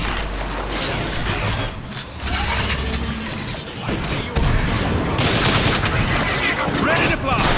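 Sustained gunfire and blasting from Transformers: War for Cybertron, with loud continuous shots, mechanical clatter and explosions filling the whole stretch and an occasional voice underneath.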